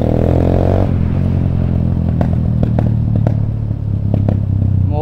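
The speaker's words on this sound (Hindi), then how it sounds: "मैं होप करता हूँ आपको पटाखे की आवाज़ सुनाई दे रही होगी।" A TVS Apache 160 2V with an Akrapovic full-system exhaust drones steadily while riding, with several sharp exhaust pops and crackles breaking through at irregular intervals.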